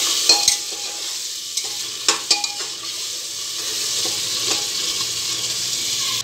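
Masala sizzles and fries in oil in a kadhai for matar paneer, with a steady hiss broken by scraping stirs of a spoon against the pan.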